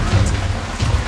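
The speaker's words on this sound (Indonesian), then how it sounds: "Lagi hujan ah." Rain falling around a chicken coop, a dense, steady wash of noise with low rumbling underneath, loud and continuous and without talk.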